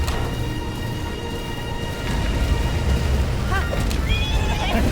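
A horse in Breath of the Wild gives a sharp whinny toward the end, over a steady ambient game backdrop while a player talks.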